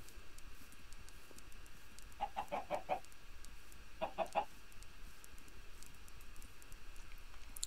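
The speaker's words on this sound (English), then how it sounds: "Oh, lots of chickens." Chickens clucking in the Minecraft video game, two short bursts of rapid clucks a couple of seconds apart over a quiet background hiss.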